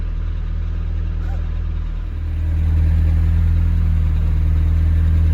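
Lamborghini Temerario idling with its stock OEM exhaust, heard from inside the cabin: a deep, steady low rumble with a throbbing hum that swells slightly louder partway through.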